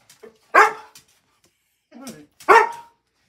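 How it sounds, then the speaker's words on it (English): Dog barking close by, two sharp loud barks about two seconds apart with a few softer yips and whines between them, in a quiet setting. "Barking."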